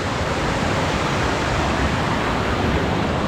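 Jet Kot waterfall in Saraburi, Thailand: a steady, loud, broadband rush of falling water, continuous and close throughout with no breaks or voices.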